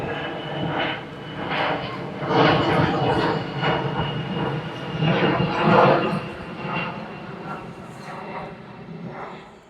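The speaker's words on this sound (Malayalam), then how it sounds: "ഒരു വിമാനം വരുന്നുണ്ട്, കിട്ടുമോ നോക്കട്ടെ" A fixed-wing airplane passes overhead on approach in Delhi, its engine roar a broad rumbling wash that swells and fades in waves, with a voice speaking faintly beneath it.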